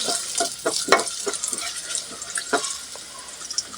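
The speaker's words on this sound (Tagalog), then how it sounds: "Maglagay tayo ng mantika. Lagay natin ang sibuyas. Luya pala, luya. Gisa-gisa muna." Onion and ginger sauté in oil for chicken adobo, a close sizzle under quick, rhythmic stirring clatters from a utensil against the pan.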